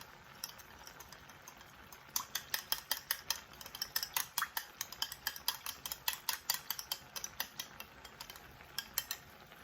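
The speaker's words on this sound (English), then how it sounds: "Stir it up really good." A spoon stirs sweet and sour meatballs with pineapples in a pan, producing a quick series of faint, repeated scraping clicks in an irregular rhythm, with no talking.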